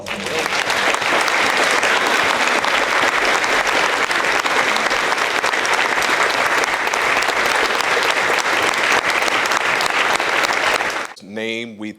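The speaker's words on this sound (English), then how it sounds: "We can give them a round of applause." Loud, sustained applause from a large audience at a school fundraising breakfast fills the whole stretch, then cuts off as a voice begins speaking.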